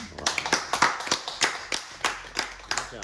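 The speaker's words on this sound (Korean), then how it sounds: "박수 한번 주시죠." Rhythmic clapping from a small church seminar audience, a dozen or so distinct sharp claps in a fairly steady beat, close and moderately loud, with a quiet gap partway through and no talking over it.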